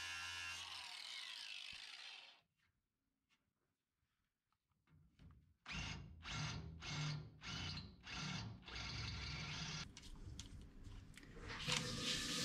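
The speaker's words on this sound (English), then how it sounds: "drill some holes, tap them" A power drill bores holes into junkyard emergency-brake parts for a chopped 1951 Chevy, starting with an earlier loud burst, then a pause, then several short rising whirring pulses followed by a sustained grinding run, close and loud.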